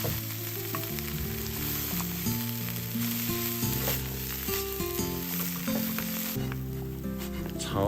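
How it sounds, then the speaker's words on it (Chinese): Taro stir-fried with Chinese sausage and dried shrimp in a wok, a steady close sizzle and crackle of frying running throughout, with occasional scraping of the stirring. "倒入芋头继续翻炒，炒至微微焦黄"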